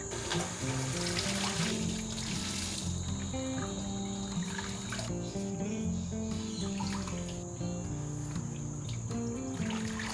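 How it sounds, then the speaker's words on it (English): Cold tap water runs steadily into a sink with splashing and swishing as a dyed fabric tablecloth is rinsed, close by and continuous, with a faint tonal hum in the background. "this is cold water rinse number 3"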